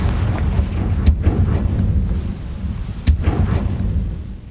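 In Hogwarts Legacy, the Confringo fire spell is cast, releasing heavy rumbling blasts with two sharp booming impacts over a low, roiling roar, loud and close.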